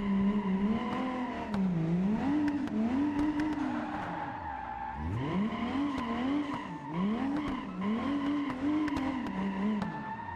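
Go-kart drifting on a karting track, a high-revving engine whine rising and falling in repeated swoops as the tires slide, with steady loud engine drone and skidding throughout.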